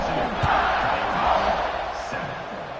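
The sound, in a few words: stadium crowd cheering in video game College Football 26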